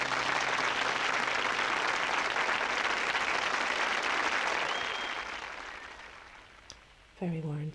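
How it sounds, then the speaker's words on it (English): Applause plays in the video game Frog Detective 3: Corruption at Cowboy County, a steady wash of clapping that gradually fades out, followed by a short spoken voice at the end. "Very warranted applause there."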